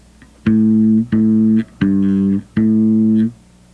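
Four separate plucked bass guitar notes on the second string ring out one after another, each clear and sustained, with short gaps between them.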